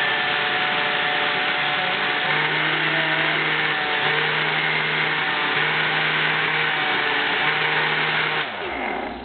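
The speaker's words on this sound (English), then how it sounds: "It's a smoothie blender, so once you've finished blending, you just open up the spout with it on and it squirts it out." Smoothie blender motor whirring steadily while blending a high-protein strawberry peach fruit smoothie, a loud continuous drone with a pulsing pitch as the mix circulates, winding down near the end.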